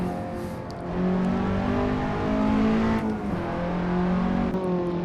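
A Honda Civic Si coupe, ninth generation, drives in Assetto Corsa with a steady, droning engine hum that rises slightly as it pulls, continuous and moderately loud, with no talk.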